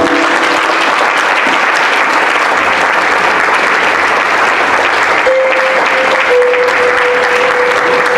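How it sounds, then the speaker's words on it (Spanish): A church congregation applauds at a Spanish-language evangelical service on Bible prophecy, a long, even wash of clapping. Faint held tones and low hums sit beneath it partway through. "Un fuerte aplauso al Señor"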